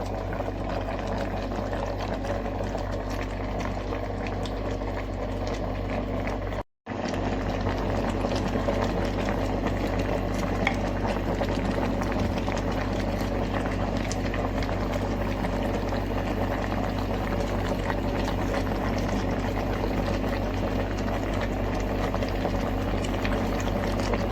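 Olives boiling in a pot, a steady bubbling simmer that runs continuously with only a brief dropout partway through.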